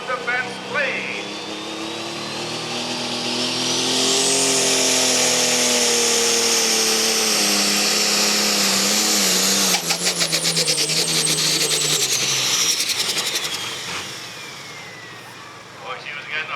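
An elite-class pulling vehicle's engine revs up hard at a pull-off event, rising to a loud sustained high-pitched scream, then winding down as the RPM drops, with an announcer talking over the start.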